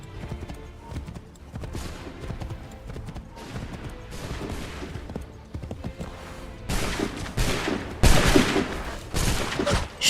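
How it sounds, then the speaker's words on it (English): Pistol shots and surrounding gunfire in Assassin's Creed III, sharp cracks scattered over busy background clatter that grows louder and denser toward the end, with several bright bursts near the close. "Press Y to shoot the highlight check with your pistol."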